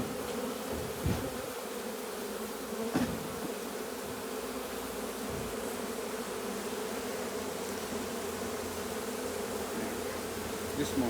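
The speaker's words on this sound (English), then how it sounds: "The bees." Honey bees at a hive on a regenerative farm keep up a steady, low, droning buzz throughout, fairly quiet and uninterrupted, with no voices.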